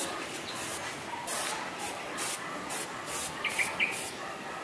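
Insecticide is sprayed in short, rhythmic bursts of hissing mist, several pulses in a row, with faint bird chirps in the background.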